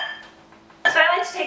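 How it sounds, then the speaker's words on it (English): Two butter knives clink against a bowl while cutting butter into oatmeal cookie dough, camp cooking style, close and brief, with a louder burst of scraping and clatter in the second half. "I always like to take 2 knives and kind of cut the butter up a little bit"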